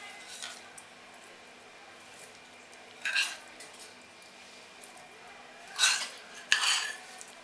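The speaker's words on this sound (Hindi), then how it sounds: "अभी हम इसमें तड़का डाल देते हैं।" A metal spoon scrapes and taps against a pan while tempering is added to dhokla, a few times, with quiet pauses between the clatters, close by and fairly soft.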